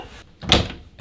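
A door swings and shuts with a single sharp, close thud, and a faint click follows just after.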